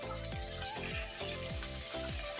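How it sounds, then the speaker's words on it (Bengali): Ash gourd frying with onion, ginger and garlic, giving off a loud, dense, continuous sizzle with a low rhythmic tonal whine repeating underneath, and no voices. "তো এখন আমি জালি কুমড়োটা দিয়ে দিচ্ছি"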